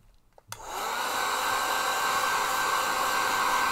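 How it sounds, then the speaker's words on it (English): A hairdryer switches on with a click and settles into a steady, close whirring roar, used to dry watercolour paint on paper; no voices are heard. "Or don't use a hairdryer. But I'm just trying to dry it off a bit."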